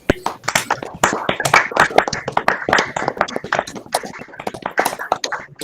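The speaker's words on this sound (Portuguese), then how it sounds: "peço uma vibrante salva de palmas ao nosso pavilhão nacional e aos presentes" Lively applause from an audience at the close of a Lions Club talk on diabetes, dense rapid clapping that keeps going steadily, close and loud, with voices mixed in.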